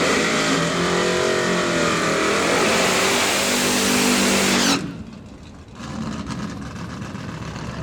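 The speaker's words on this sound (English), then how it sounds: "Beautiful Chevy Nova taking on the Crusty Dart." Chevy Nova and Dodge Dart drag race cars launch together at a heads-up street racing shootout, a loud sustained roar of engines revving hard down the track, then a sudden drop as the cars pull away into more distant rumble.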